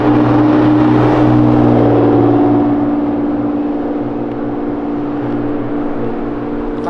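A Ferrari engine roars loudly and steadily close by, a dense harmonic drone that holds strong for a few seconds and then eases slightly to a lower sustained rumble.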